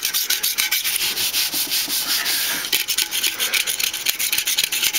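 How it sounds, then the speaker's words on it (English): Old gasket residue on a Big Green Egg ceramic grill is scrubbed with acetone, a loud, close, rhythmic rasping rub in quick back-and-forth strokes with a brief pause midway. "And more scrubbing with the acetone."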